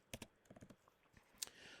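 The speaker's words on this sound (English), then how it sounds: "I'm just going to type in the word dodgeball." Fingers type on a computer keyboard in a quiet room, making a short run of light, irregular key clicks with one sharper tap near the end.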